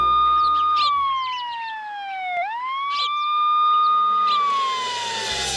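An ambulance siren wails in a steady rising and falling sweep, loud and close, with one deep dip midway and no talking over it.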